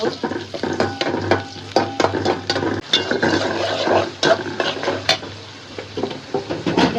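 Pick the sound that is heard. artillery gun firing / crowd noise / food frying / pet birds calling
food frying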